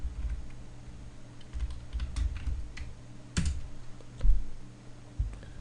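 Keys clatter on a computer keyboard while a PHP update statement is typed out, the close, uneven keystrokes coming in small bursts with brief pauses and no voices.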